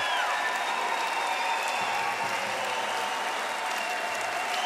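Audience applause after a concert at De Oosterpoort in Groningen, a dense, steady roar of clapping from a large crowd with a faint voice over it.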